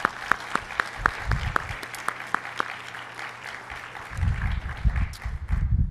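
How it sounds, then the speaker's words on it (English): Conference audience applause breaks out in a large hall, a few distinct claps at first, then a louder wave of clapping building toward the end. "Let's give him another round of applause"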